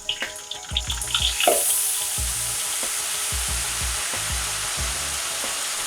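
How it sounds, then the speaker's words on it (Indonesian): Steady crackling sizzle of battered tofu frying in hot oil, continuous and close, with a few low clunks of a utensil moving in the pan. "Goreng dengan cara yang sama hingga tahunya itu matang dan kuning kecoklatan."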